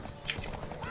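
Horses gallop in a race in the video game The Witcher 3, a quick run of hoofbeats heard close and moderately loud, with a brief whinny mixed into the rush.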